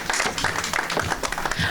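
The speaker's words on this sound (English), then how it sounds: "A round of applause as she comes up." Brisk clapping from a conference audience at a women's football event, uneven and fairly close, lasting under two seconds with a faint voice mixed in.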